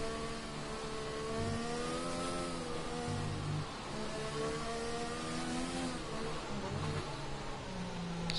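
Race car engine in a wet GTR racing video game on a Vietnam circuit: a faint, steady mid-pitched engine whine with several harmonic layers, shifting slightly in pitch as the car passes through the final sector.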